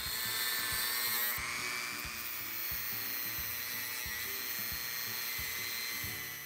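A power tool grinds a flute into the threads of a homemade tap used to clean up damaged threads, a steady high whine with regular rhythmic pulses as it cuts, continuous and close with no talking.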